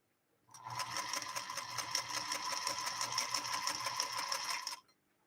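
A 1952 Singer Featherweight sewing machine stitches steadily through three layers of tough acrylic upholstery fabric, a close, continuous rapid whir and needle clatter running about four seconds before stopping abruptly.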